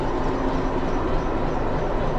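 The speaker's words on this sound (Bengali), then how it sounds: "মারওয়ার জাংশন থেকে গোরামঘাটের জন্য আমাদের ট্রেন কিন্তু ছেড়ে দিল" A train pulling out of the station from Marwar Junction toward Goram Ghat in Rajasthan, a steady loud rumble and rolling drone heard from on board, without talk.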